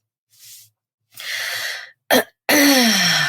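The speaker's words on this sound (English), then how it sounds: "Oh, it's like I can feel myself needing to cough." A single person gives a short series of breathy coughs and throat-clearing bursts, close and loud, with brief silent gaps between them and a long strained exhale at the end.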